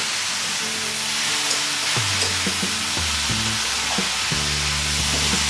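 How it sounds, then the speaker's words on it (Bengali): Mixed vegetables fry in a pan with a constant sizzle while a utensil stirs and scrapes through them, producing intermittent knocks and clatters over the hiss. "সবজি দেওয়ার পর খুব ভালোভাবে নেড়ে চেড়ে দিতে হবে, আর এটা খুব ঘন ঘন নাড়তে হবে।"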